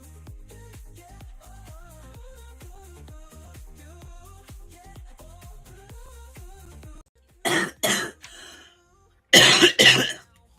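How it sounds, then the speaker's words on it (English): A woman gives two bursts of harsh, close coughing during a live tarot reading stream, right after gentle background music with plucked notes stops. She does not speak. "Wrong time to cough."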